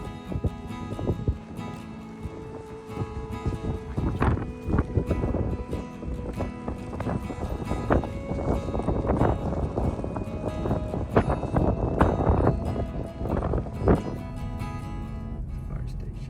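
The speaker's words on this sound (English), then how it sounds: "It's so windy." Strong wind buffets the microphone at a downtown harbor in Chincoteague, Virginia, a steady rumbling roar with gusty swells throughout, while a person talks over it.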